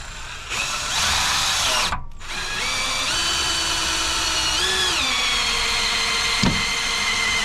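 A small battery-powered drill turns over an old Jeep engine that has not run in over ten years, whining loudly and steadily with shifts in pitch, a brief cutoff near two seconds and a click later on.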